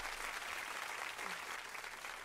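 A team in the audience applauds special guests at a geek fashion show, a steady, dense wash of clapping that carries on without pause for the whole moment.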